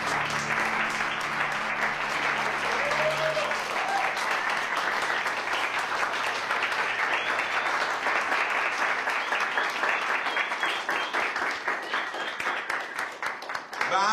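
Audience applauding at a ceremony, a long stretch of dense clapping that holds steady and then thins toward the end, with a voice briefly heard early on.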